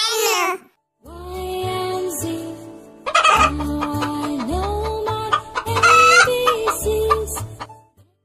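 Loud hen clucking and squawking in repeated bursts, with a rooster-like crow at the start, close and lively with no talking.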